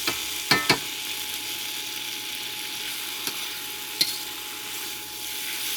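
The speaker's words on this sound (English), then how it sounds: "You just keep browning them because you will cook through the vegetable." Mushrooms and zucchini stir-fry in a pan with a steady, even hiss of sizzling oil, punctuated by a few sharp spatula taps near the start and middle.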